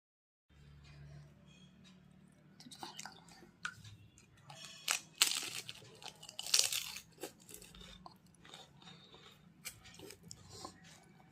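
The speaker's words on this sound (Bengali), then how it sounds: "তোমরা শুধু একবার দেখো ফুচকাটা কিভাবে খাচ্ছে" A girl eating fuchka, with crisp crunches and wet chewing that come close and irregular, loudest in the middle and quieter toward the end.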